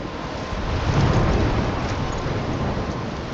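Stormy weather in the game Life is Strange, a steady broad roar of wind and rain, loud and constant, swelling slightly near the start and holding without pause or voices.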